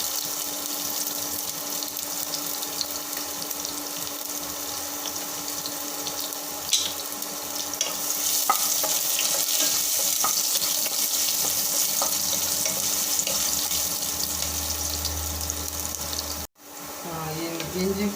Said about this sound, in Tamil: எண்ணெய் சூடேறிட்டு நம்ம ஒரு கை பூண்டு வந்து நான் பொடிசாக கட் பண்ணி போட்டுருக்கேன்